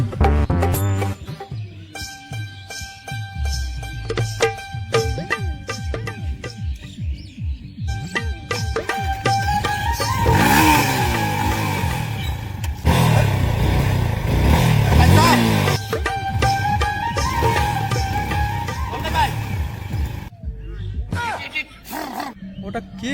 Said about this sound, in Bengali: ভাই কার বাইক রে এটা?